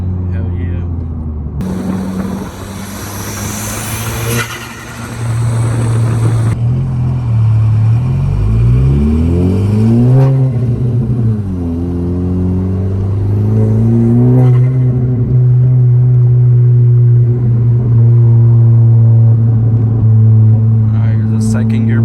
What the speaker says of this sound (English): Has that HKS blowout valve sound.